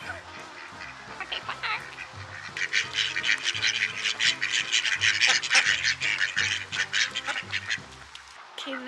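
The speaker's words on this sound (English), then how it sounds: "there are some ducks." Ducks quack repeatedly outside a plantation general store, a steady run of calls at moderate distance with a brief spoken remark near the end.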